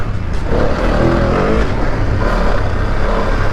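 The engine of a BMW F900 GS motorcycle riding off-road in second gear growls continuously and loudly, with its revs rising and falling.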